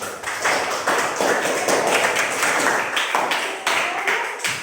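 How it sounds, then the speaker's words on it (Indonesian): Classroom applause from a group of students, steady dense clapping that runs the whole time at close range with no pauses. "Sekali lagi kita berikan aplaus untuk kesimpulan"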